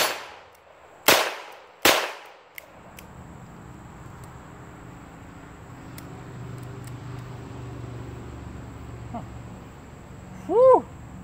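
An S&W 317 kit gun firing at a steel target outdoors: two loud, sharp shots in quick succession, each ringing off steel, followed by quieter background and a brief later click.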